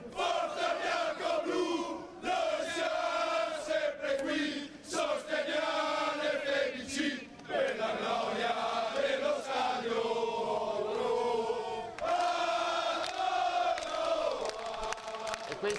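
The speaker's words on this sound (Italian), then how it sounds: "sentiamo anche i cori in questo momento" Treviso Calcio football ultras chant in unison at a protest in Piazza dei Signori, a sustained, loud crowd chorus with rhythmic, sung phrases rising and falling throughout.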